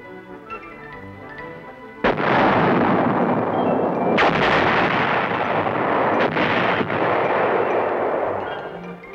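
Artillery counterfire aimed at enemy mortar sites: a sudden loud blast after about two seconds opens into a long, sustained roar of heavy fire, with further sharp reports around four and six seconds.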